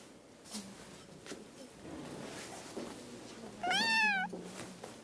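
A cat gives a single drawn-out meow near the end, over a quiet room with faint background voices and soft noises.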